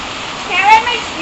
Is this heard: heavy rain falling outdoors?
yes